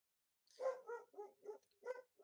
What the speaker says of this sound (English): Is your dog still barking?